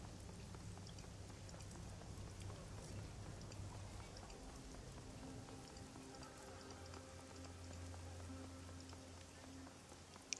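A steady downpour falls on a drone barge in the game Shadowrun: Hong Kong, a dense, even hiss of rain with a faint low hum beneath, continuous throughout and without talk.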